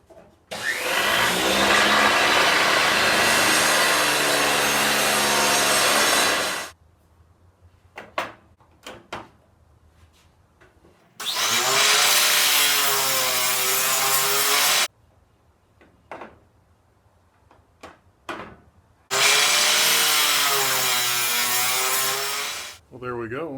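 A power saw cuts tapers in wood with a taper jig in a workshop, three loud sustained bursts of whining cutting separated by quieter gaps with clicks and handling noises.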